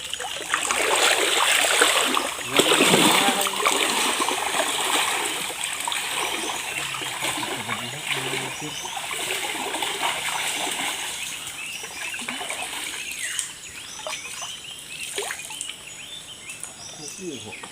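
Continuous rushing river water with splashing and trickling throughout, fairly loud and close, with faint background voices at times.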